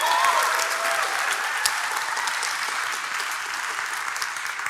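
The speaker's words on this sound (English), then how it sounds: "Round of applause for the volunteers" Tech conference audience applauding volunteers, sustained dense clapping from a large crowd holding steady for several seconds, moderately loud, with a brief cheer or whistle at the start.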